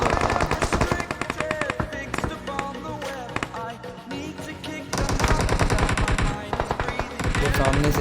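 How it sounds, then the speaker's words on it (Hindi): Rapid automatic gunfire in a PUBG-style battle royale shooter, dense bursts of rattling shots that pause briefly and then resume louder, with some game sound mixed in. "अब मुझे इधर से फायर आता है"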